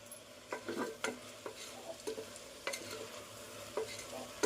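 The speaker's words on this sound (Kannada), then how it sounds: "ಹಂಗೆ 3 to 5 ಮಿನಿಟ್ಸ್ ಫ್ರೈ ಮಾಡ್ತಾ ಇರಬೇಕು" Vegetables for masala upma frying in a pan, a soft sizzle under repeated spoon scrapes and taps against the pan, about a dozen uneven stirring strokes, close but fairly quiet.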